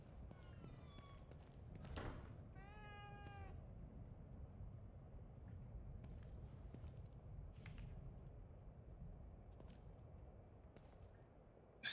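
A cat meows in the horror game The Evil Within 2, several short rising and falling cries near the start over a low, steady ambient rumble, with scattered faint clicks and knocks later.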